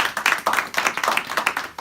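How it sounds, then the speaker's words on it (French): Quick burst of hand clapping from a small group at a business event, fairly close, uneven patter lasting under two seconds with no speech over it. "je pense qu'il mérite une très bonne main d'applaudissement"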